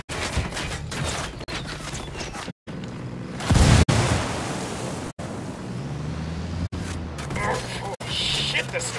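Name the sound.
grenade explosion in video game Ghost Recon Wildlands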